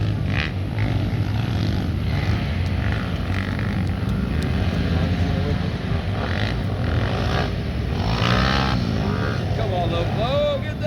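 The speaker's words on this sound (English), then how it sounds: "That bike is running so fast." Pit bike engines in a money class race, a continuous loud buzzing drone with rising and falling revs as bikes pass, while people talk nearby.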